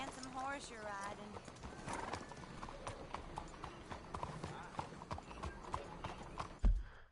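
Horse in Red Dead Redemption 2 whinnying near the start, then hooves clip-clopping at a steady rhythm under game voices and ambience, ending with a sharp thump.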